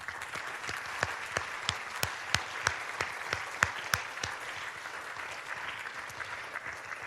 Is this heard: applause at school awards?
yes